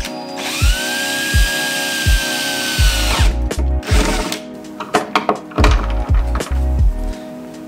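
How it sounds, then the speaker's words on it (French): A power drill bores into capped screws on a 2018 Mazda 3, starting with a long high whine and then breaking into short bursts with thunks and knocks as the bit catches. It is close and loud, with no speech. "Fait que je vais percer dedans"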